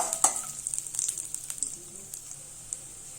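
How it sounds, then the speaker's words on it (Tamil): Raisins and cashews roast lightly in a pan, a soft, thin sizzle punctuated by a few quick clicks of stirring, fairly quiet and with no talking. "இப்ப திராட்சையை சேர்த்துக்கலாம். இது லேசா வறுத்து எடுத்துடலாம்"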